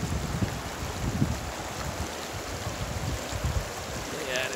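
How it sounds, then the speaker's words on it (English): The Gunnison River near Crested Butte, Colorado, rushing steadily as a broad, continuous wash of flowing water, close and fairly loud throughout. "I think this is the Gunnison River."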